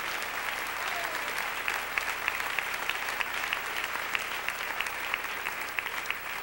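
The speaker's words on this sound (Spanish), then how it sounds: "Dele un aplauso al Señor" Church congregation applauding steadily, a dense, even patter of many hands filling the room at close range with no speech over it.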